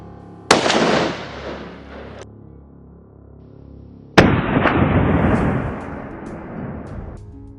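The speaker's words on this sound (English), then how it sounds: "Then a barrage of gunfire echoes across the field" Two sharp, loud blasts from heavy weapons fired at wild boars a few seconds apart, each with a long rumbling echo trailing off, like heavy gunfire rolling across open farm fields.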